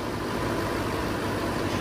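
Audi A8L with a detuned 4-liter twin-turbo V8 idling under the open hood, a steady, smooth, even hum with no revving and no talk.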